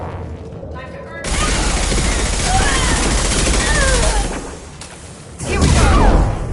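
Heavy gunfire in Mass Effect 2 Legendary Edition: a sudden dense barrage of continuous shooting and blasts, loud and sustained, with a renewed burst near the end and voices mixed in.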